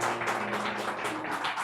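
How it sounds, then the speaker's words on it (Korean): A church congregation claps for newly baptized members during a Thanksgiving service, a brief burst of steady, rhythmic applause in a reverberant hall with a faint low hum underneath. "인사 힘차게 박수 쳐주세요"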